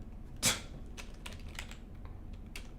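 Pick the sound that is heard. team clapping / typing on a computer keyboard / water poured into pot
typing on a computer keyboard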